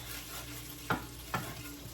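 Shredded chicken for Maguindanao-style chicken pastil being stirred and sautéed in a pan, a steady low sizzle with two distinct scraping stirs standing out over the frying.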